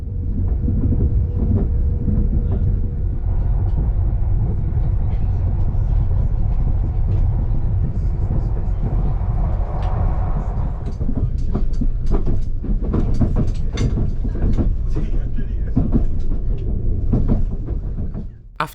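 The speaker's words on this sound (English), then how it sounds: "After rattling our way across Blackburn-Bolton Junction, we arrive at the station of Blackburn itself" Northern Class 195 commuter train rattling along the rails, a loud continuous rumble with repeated clickety-clack rail joints and thuds as it crosses a junction near Blackburn.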